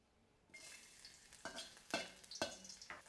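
Ginger fries in oil in a wok, starting from near-silence into a soft sizzle, then punctuated by several sharp stirring scrapes at irregular intervals; close and fairly quiet, without talk.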